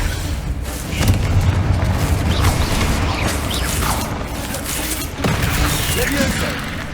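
Confringo explosive fire spell bursts in Hogwarts Legacy: loud, dense booms and crashing impacts layered over continuous game noise and mechanical clatter, with several sharp blast transients through the stretch.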